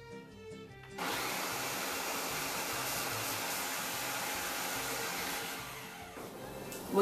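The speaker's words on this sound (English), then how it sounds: "just all ready to go into the food processor" A food processor chopping raw corn kernels, starting up abruptly with a loud steady whirring motor roar that runs for several seconds, then dips and surges again at the end.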